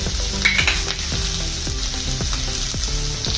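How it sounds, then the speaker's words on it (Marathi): Boiled potatoes sautéing in a pan with curry leaves, turmeric and green paste, a steady close sizzle broken by repeated scraping stirs of a spoon against the pan. "चवीनुसार मीठ टाकून मी हे चांगले परतवून घेतो"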